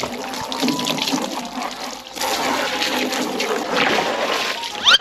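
Running water rushes and splashes inside a large basin being rinsed out, a steady close wash with sloshing throughout and a brief dip midway.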